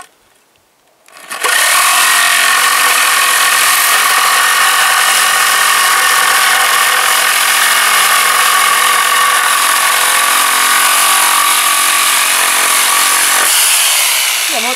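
An electric saw with soft start spins up and cuts through wood, a loud, steady, continuous whine that holds for about twelve seconds after a quick ramp-up, then cuts off near the end.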